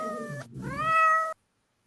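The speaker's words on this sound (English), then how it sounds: "he's doing the cat noise through that" A cat meow sound effect played through a phone: two clear, nasal meows in quick succession, the second longer and rising, then abrupt silence.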